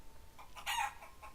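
A rooster crows once at a moderate distance, a brief strained call rising and falling over a quiet background.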